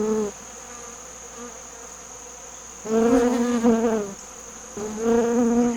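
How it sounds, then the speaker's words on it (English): A hornet chases honeybees near a sugar-syrup feeder, giving a steady insect buzz close by. The buzz swells louder in two bursts near the end. "The hornet is going after bees."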